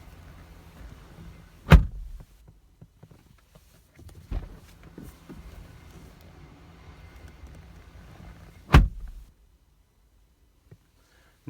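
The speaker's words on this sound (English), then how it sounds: "you can even hear it when you shut the door" Two solid, heavy thuds of a 2017 Mazda CX-9 door shutting, several seconds apart, each a deep clean slam in a quiet interior with faint movement between.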